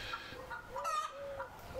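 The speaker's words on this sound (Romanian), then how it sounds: "găinile astea se apucă acum de lătrat" Hens clucking close by in a Romanian household yard, a run of short, uneven clucks and one drawn-out squawk, loud and clear with no talking over them.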